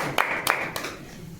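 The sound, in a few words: clapping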